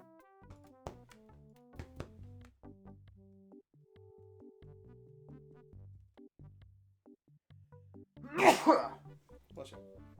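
In Monkey Island 2: LeChuck's Revenge, a single loud sneeze bursts out near the end over quiet plinking game music and sound effects.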